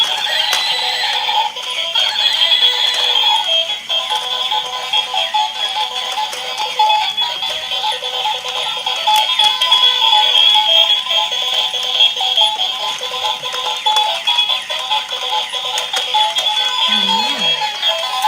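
A battery-powered walking toy zebra plays a loud recorded horse neigh and whinny over steady rattling and clip-clop mechanical clatter, continuous and close throughout.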